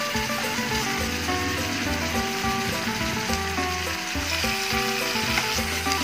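Beef steak and garlic sizzling in a frying pan, a steady dense hiss and crackle throughout, close and loud, mixed with soft tonal kitchen background.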